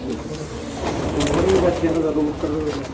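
Domestic pigeons coo in a loft at a pigeon keeper's place in Sonipat, Haryana, a low throaty warble rising and falling close by amid background voices and rustling.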